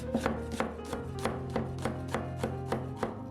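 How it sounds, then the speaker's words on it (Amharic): A knife chops crushed garlic on a board in a steady rhythm of about nine close, crisp knocks. It is heard alone, with no voices. "ነጭ ሽንኩርት አድቀን መክተፍ፣"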